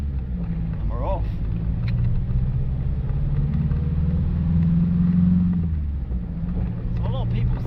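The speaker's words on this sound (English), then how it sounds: "So a lot of people said this VM engine was rubbish, but it's not too bad." A Range Rover Classic with a VM diesel engine pulls away in first gear, a low steady diesel rumble that swells as it drives off, with someone talking over it.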